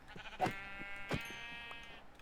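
Sheep in the video game Minecraft give two or three short, nasal bleats, closely spaced and fairly clear over a quiet background. No one speaks.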